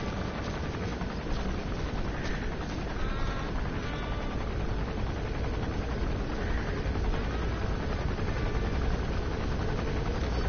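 Helicopter in Metal Gear Solid V: The Phantom Pain, a dense continuous rotor and engine roar held at steady loudness throughout, with faint game effects layered over it.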